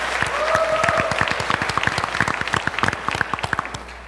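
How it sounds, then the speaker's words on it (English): Applause for a panelist at a travel industry panel discussion: a room of clapping with sharp, closely spaced individual claps, steady and fairly loud for about four seconds. "Big applause, please"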